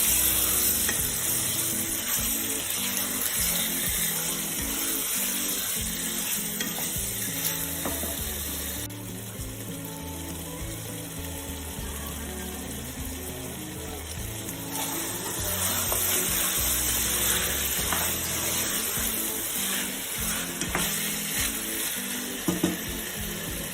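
Chicken pieces coated with turmeric fry in a pan for a chicken curry, giving a steady sizzle with repeated scraping and clinking as they are stirred and mixed, close and fairly loud throughout with no talking.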